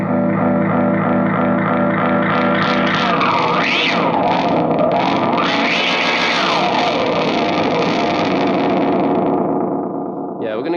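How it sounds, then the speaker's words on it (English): Electric guitar run through a delay pedal on standard mode, with notes and sweeping bends echoing back as a steady, loud wash of repeats that fades at the end. "This is what a delay does. It adds delay onto the signal."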